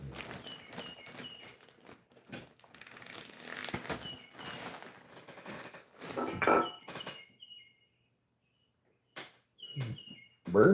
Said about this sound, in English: Birds are going crazy out there this morning.